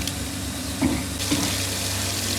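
Filtered water from a village water filter plant pours steadily into a tank, a continuous rushing flow with a couple of brief splashy surges.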